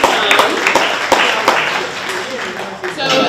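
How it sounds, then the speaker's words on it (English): Audience applause for panelists at a university international student union panel, a sustained burst of many hands clapping in a room, with voices mixed in under the claps. "join me in giving a round of applause to our panelists"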